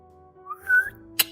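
A short, faint attempt at whistling gives a thin rising tone that wavers briefly, followed by a sharp little click, all in a quiet room.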